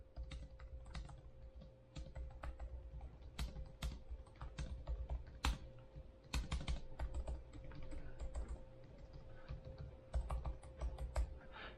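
A Logitech MX Keys Mini keyboard typed on steadily, its soft, quiet keystrokes clicking in a quick irregular stream over a faint low hum, with no voices.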